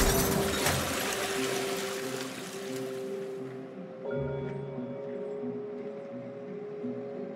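Water splashing and pouring, a loud, dense rush that fades after a few seconds into a faint wash.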